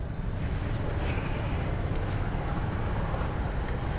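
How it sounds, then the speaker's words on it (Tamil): Steady road traffic rumble in Coimbatore, a dense low roar of vehicles with wind buffeting, continuous and fairly loud, no clear voices. "நல்லா டிராஃபிக்கில் வந்து மாட்டினோம் போல்."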